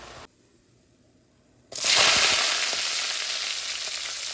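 Garlic, mustard seeds, fennel, dried chillies and curry leaves dropped into hot oil for tempering: near silence, then a sudden loud burst of sizzling that settles into a steady hiss.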